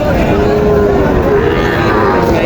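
A Sahiwal cross heifer calf moos in one long, steady call at a crowded cattle market in Joypurhat, with constant background din from the surrounding crowd.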